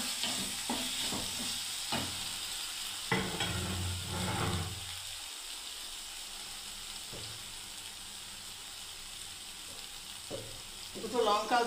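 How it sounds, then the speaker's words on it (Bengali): Pointed gourd fries in a pan with a steady, close sizzling hiss, broken by scraping stirring strokes early on, then settling into continuous crackle. "এবার আমি নাড়তে থাকবো।"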